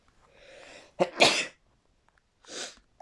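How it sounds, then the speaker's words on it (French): A person sneezes once, close and loud: a breathy inhale leads into a sharp explosive burst, followed by a softer exhale, with no talking. "Oh, j'ai encore éternué, ça m'énerve, ça fait déjà 2 fois"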